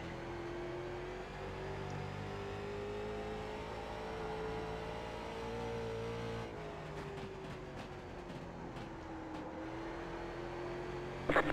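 Late model race car engine at Concord in the iRacing sim, a steady loud drone held at high revs with a brief lift and pitch change partway through, then back on throttle.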